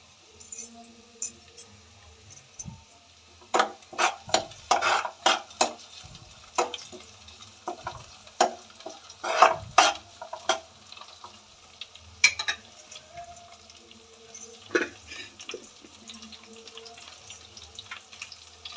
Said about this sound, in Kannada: ಅದಕ್ಕೆ ನಾವು ಸ್ವಲ್ಪ ಕರಿಬೇವನ್ನು ಸೇರಿಸ್ತಾ ಇದ್ದೀವಿ